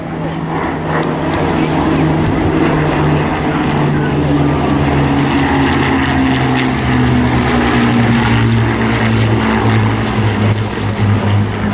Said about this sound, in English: led by John Remain, please welcome Blenheim formation